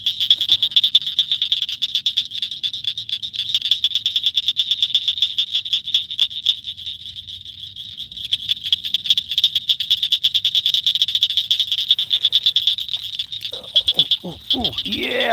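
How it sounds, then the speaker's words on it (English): A loud, unbroken frog chorus trills at night beside the water during microfishing, and near the end a person starts talking over it. "The frogs are too loud."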